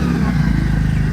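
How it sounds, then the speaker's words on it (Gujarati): Motorcycle engine running close up, a brief loud low rumble with steady throbbing pulses and no voices. "બાઇક લઈને રેડી જ છીએ હવે નીકળીએ પછી"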